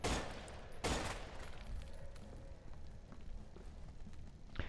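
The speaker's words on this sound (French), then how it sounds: "On va se le faire avec cette arme. Le FN-FAL." Rapid FN-FAL rifle fire in the zombie game No More Room in Hell: dense, continuous shots under a loud wash of game noise, with one heavy blast near the start.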